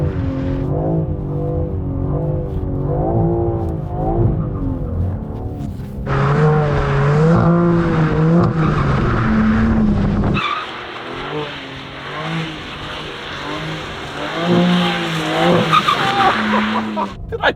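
A 2024 BMW M3 CS spins donuts, its engine roaring steadily while the tires skid and squeal, the sound swelling louder around the middle and continuing without pause, up close.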